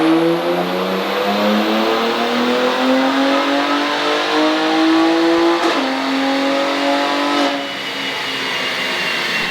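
BMW X3M on a dyno, engine revving steadily and climbing in pitch through a sustained loud pull, with a sudden shift-like break near the end before the tone settles again.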